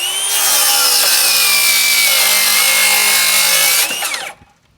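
Metabo HPT 36V rear handle cordless circular saw making a bevel cut through wood, a loud, close, sustained high whine with steady cutting noise for about four seconds before the blade spins down and stops.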